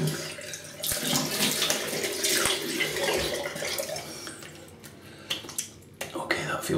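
Tap water running and splashing in a sink while rinsing after a wet shave, a steady hiss with small splashes and hand movements, fairly close and moderate in level, thinning out with a few sharp knocks near the end.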